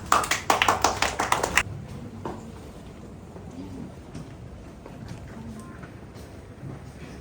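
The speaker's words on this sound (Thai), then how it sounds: "เสียงปรบมือด้วยนะครับ" A short burst of rhythmic clapping at a school for deaf children in Thailand, brisk and fairly close for about a second and a half before it fades into quiet room noise.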